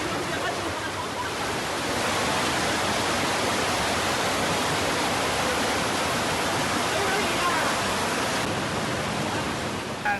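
An overflowing river cuts off the only access route to a village after heavy upstream rain in Sumatra, and its floodwater rushes with a loud, continuous broadband roar, steady throughout.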